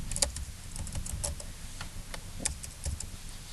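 Quick, irregular clicks of keys pressed on a graphing calculator keypad, close and fairly quiet, in short bursts with brief pauses between presses.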